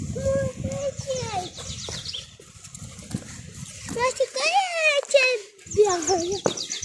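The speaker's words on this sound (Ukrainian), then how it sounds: "Може, чуєте, як птічки співають?" Chirpy birdsong rises and falls outdoors, with rapid trilling calls mixed in among children's voices and playful chatter.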